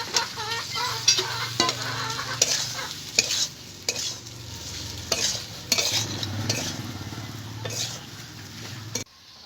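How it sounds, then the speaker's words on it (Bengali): Fried pointed gourd is tossed into a spiced masala and stirred in a pan, with repeated close scrapes and clinks of the spoon over a continuous sizzle. "মশলাটা কষানো হয়ে গেছে, এবার ভেজে রাখা পটলগুলো দিয়ে দেবো।"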